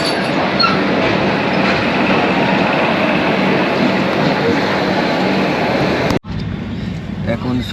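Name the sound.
train departing Patna Junction station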